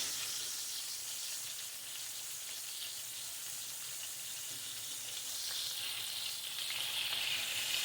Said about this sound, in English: It's frying up too much.